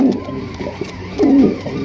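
A pair of Black Archangel pigeons cooing close by, two soft, throaty coo phrases about a second apart, each rising and falling, with light rustling between.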